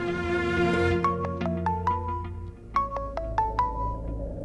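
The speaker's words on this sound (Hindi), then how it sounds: "बैंक से फोन" A mobile phone ringtone announcing an incoming call from a bank plays a bright melodic pattern of repeated tones in two phrases over a low background hum, clear and moderately loud, without speech.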